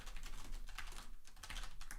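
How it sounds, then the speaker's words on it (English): Rapid, uneven typing on a computer keyboard while coding a hotkey mute switch, dense clattering keystrokes running steadily throughout without pause, close and fairly quiet. "I'm typing like a spastic."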